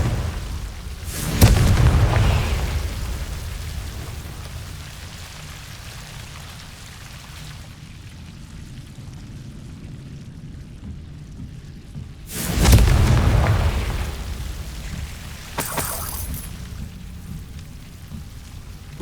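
Confringo fire spell in Hogwarts Legacy on PS5: two booming explosions several seconds apart over a steady rain-like background hiss, with a smaller burst toward the end.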